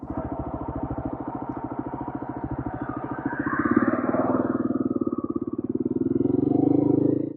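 Motorcycle engine running steadily on an Italian road while riding to a petrol station, a continuous near, loud throbbing drone that swells slightly partway through and holds to the end.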